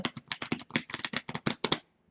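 A deck of tarot cards bridge shuffled by hand, a rapid run of crisp riffling card flicks in quick succession for under two seconds, close and clear, ending in silence.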